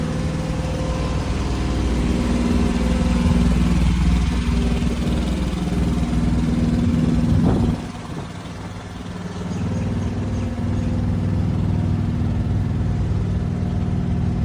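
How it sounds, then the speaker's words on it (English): An onboard generator runs steadily on a working truck at a chrome shop show, a loud, close mechanical drone that dips briefly midway and then returns to its constant hum. "They got an onboard generator."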